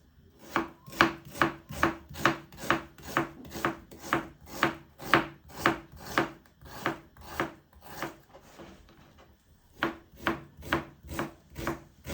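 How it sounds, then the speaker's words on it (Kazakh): Rapid, even chopping of onion into small cubes with a knife on a board, a long run of crisp strokes with one short pause partway through. "біз жуамызды майда кубиктап турап аламыз"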